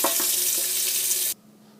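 Water gushes from a kitchen tap into a cup in a steady, bright hiss for over a second, then cuts off abruptly as the tap is shut, leaving near silence.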